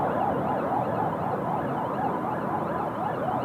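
Fire engine sirens sound at Seoul Incheon Airport, their fast rising and falling yelp cycling steadily over a dense background roar of traffic, loud and unbroken for the whole stretch with no voices.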